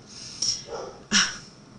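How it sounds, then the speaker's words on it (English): A dog at home gives two short, muffled barks from the background, one softer and then a louder one, with quiet room tone around them. "we didn't have my dog in the background barking"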